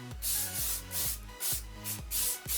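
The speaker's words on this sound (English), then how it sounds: "So I'm just going to spray this throughout the whole hair." L'Oreal Studio Pro volume hairspray misted through hair in five or six bursts, each a loud, close hiss with a short gap between sprays.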